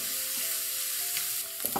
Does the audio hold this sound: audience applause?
no